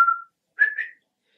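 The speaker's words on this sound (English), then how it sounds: "Can you whistle? Yes, I can whistle." A person whistles two short notes, a brief clear tone followed after a pause by a slightly wavering second note, close and alone.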